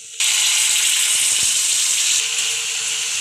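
Chopped garlic and dried chilli hit hot oil with a sudden loud sizzle that settles into a steady, bright hiss.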